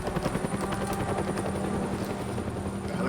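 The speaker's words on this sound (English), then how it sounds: "the helicopter flies over, looking for Batman." A helicopter in the Batman Telltale video game passes overhead, its rotor chopping in a rapid steady beat with a whining engine tone, fairly close and continuous.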